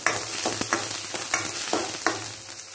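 Whole peeled garlic cloves fry in hot oil in a pan while being stirred, giving a steady close sizzle with a few scraping stirs and no talking.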